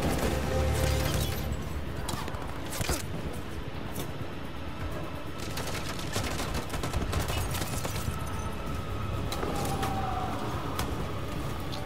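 A volley of gunfire rings out in Detroit: Become Human, loud, repeated sharp shots and bursts scattered over several seconds amid crashing and mechanical din, with little speech.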